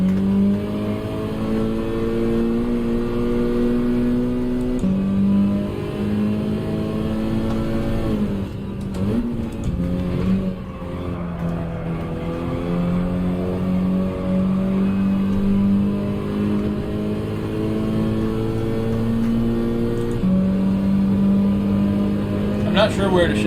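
Honda VTEC race car engine in Gran Turismo 7 revving steadily in a sustained, loud drone, with pitch climbing and dropping as gears shift, a brief dip near the middle, and a voice talking over it throughout.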